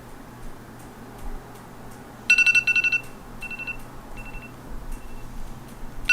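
A phone alarm rings in a bedroom in a short film, a run of bright, rapid electronic beeps in quick bursts that repeat steadily for several seconds, clear and close with no talk over it.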